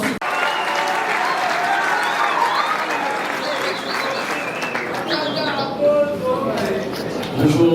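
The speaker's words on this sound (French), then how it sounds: "Est-ce que Maître Gédéon peut me rejoindre sous vos applaudissements?" Sustained audience applause fills a formal opening session of a political event, steady and dense for several seconds, with voices and crowd murmur mixed in near the end.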